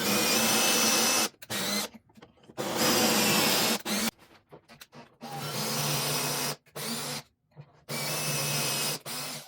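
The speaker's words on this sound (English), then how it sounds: "start driving those pocket hole screws and watch the base come to life" A drill drives pocket hole screws into 2x4 lumber in a series of loud, close bursts of whirring, separated by short pauses, with no speech.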